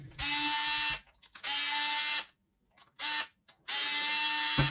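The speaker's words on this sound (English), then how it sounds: "we need to remove another 3 screws" A small electric screwdriver backs screws out of a Parkside PAAD 2 B1 cordless LED light during a teardown, running in four whirring bursts separated by short pauses, close and clear with no talking.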